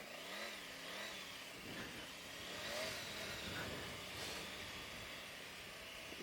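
A Triumph Tiger 900 Rally motorcycle engine on the move, its revs rising and falling in faint, wavering sweeps beneath a steady rush of wind hiss, with no voices.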